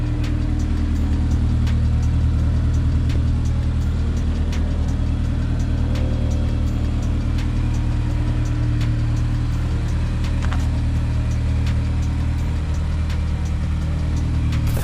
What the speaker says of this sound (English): S2000 is warming up.